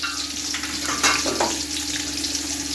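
Onions hitting hot oil with garlic for Thai-style fried rice, a steady crackling sizzle running close and fairly loud throughout, with a brief brighter burst of spatter near the middle and no talking.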